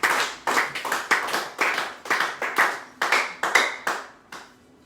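A church congregation claps in acclaim of the Lord, about a dozen sharp, close bursts of handclaps in a quick uneven rhythm that then stop, leaving near silence.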